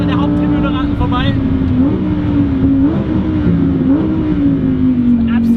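Lamborghini Huracan Evo driving past the main grandstand on a race track, its engine note droning loud and close and rising in pitch through a few upshift cycles, with someone talking over it.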